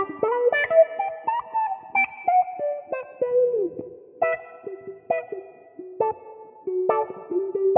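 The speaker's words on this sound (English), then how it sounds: "And now I got a nice little T-wah." Electric guitar played through a Boss Katana amplifier head with the T-wah effect, a series of plucked notes and short phrases with sweeping wah tone and echoing tails, moderately loud, with brief pauses between phrases.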